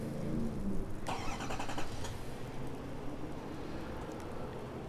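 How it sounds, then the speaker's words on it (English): A 2021 GMC Sierra 3500 Denali pickup truck remote-starts, its engine cranking and catching with a brief burst about a second in, then settling into a steady idle under a broad background hiss. "To remote start the truck, just go ahead and lock it once, and then hold the remote start button."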